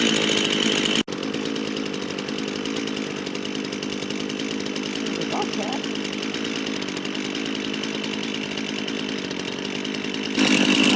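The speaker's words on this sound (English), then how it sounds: "The battery on the small chainsaw already died." A chainsaw cutting firewood runs at a steady idle-like drone for several seconds, close and fairly loud, with a brief sharp knock near the start.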